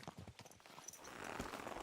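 Horse hooves clip-clop softly in Kingdom Come Deliverance 2, a quiet, brief run of rhythmic thuds that blurs into a rising low rumble of movement.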